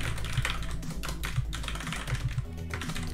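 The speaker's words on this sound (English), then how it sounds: "Keyboard clacking sounds like trains" A computer keyboard clacks in a steady run of rapid, close keystrokes, loud and with no voices over it.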